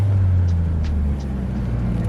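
A Toyota 1JZ engine fitted with an HKS Racing Suction intake and HKS exhaust drones loudly and steadily up close, a deep sustained rumble with no talking.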